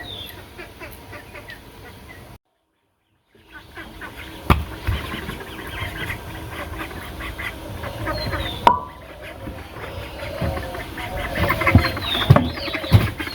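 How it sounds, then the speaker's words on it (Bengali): Ducks quacking and clucking as they are let out of their pen in a rural village yard, a scattered chorus of nearby calls with occasional knocks and a brief silent break. "তো চলেন হাঁস বের করে নেই।"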